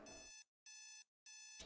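An in-game alarm in the horror game The Closing Shift rings in three evenly spaced bursts of bright electronic beeping, separated by short silences, fairly quiet and with no talk.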